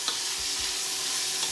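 Pancit canton with blanched pork being mixed in a hot pan, a dense close sizzle with soft tossing and scraping sounds.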